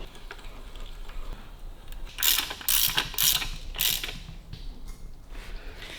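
A ratchet turns the crankshaft of a Buick engine during assembly, giving a series of close, rasping clicks and creaks in uneven bursts over a quiet mechanical background.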